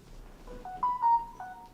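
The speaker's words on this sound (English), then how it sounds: "They sent me a fucking notification." A phone notification plays a short sequence of clear electronic tones, close and fairly quiet.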